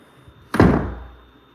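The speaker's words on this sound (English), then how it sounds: "it's not going to make anywhere near the sound that slamming this one will" A door slams shut once in a sealed, unvented room, a single loud, close thud that booms and then rings out slowly over about a second, with nothing before it but quiet room tone.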